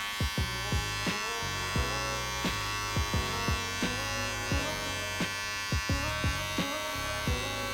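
An electric beard clipper buzzes steadily and close while trimming beard hairs, with repeated short dips and clicks as it touches the hair and lifts away, and no talking.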